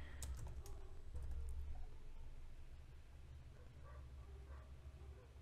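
Typing on a computer keyboard while filling in a web form, a quiet run of soft key taps over a low hum, denser at the start and tapering off.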